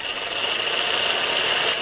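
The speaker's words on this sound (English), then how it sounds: "I forgot to mention this saw is also variable speed" An Ozito reciprocating saw runs at a low variable speed, a steady close-up buzzing whine with a rough rasping edge that holds evenly throughout, no one speaking.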